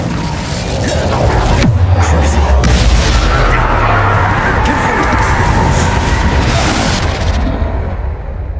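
Spell explosions from Confringo and Bombarda in the Hogwarts Legacy video game, deep booming blasts layered in a dense, sustained rumble of combat noise with no voices.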